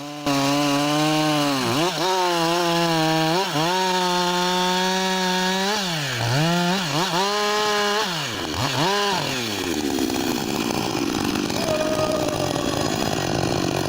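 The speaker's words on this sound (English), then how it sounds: "The chainsaw roars to life, a beast unleashed. In an instant, steel bites into timber" A chainsaw runs steadily as it cuts into a tree trunk for timber, its loud revving engine whine rising and dipping through several throttle surges before settling into a rougher grinding bite into the wood.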